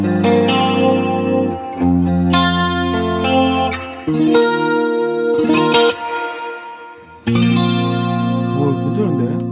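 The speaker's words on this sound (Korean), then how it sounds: "코러스." Yamaha THR10 II guitar amp with its chorus effect on, loud sustained guitar chords and notes with a shimmering, wavering modulation and reverb, played alone in bursts.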